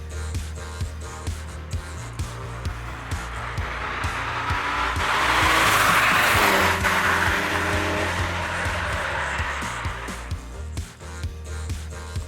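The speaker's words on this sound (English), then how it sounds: "It has a full exhaust system including catalytic converters and is surprisingly quiet and sweet-tempered from the outside of the car." A Koenig C62 road car built from a Porsche 962, with a twin-turbo engine and a full exhaust with catalytic converters, drives past at moderate distance. The steady engine note swells to a peak midway and then fades, with no talk.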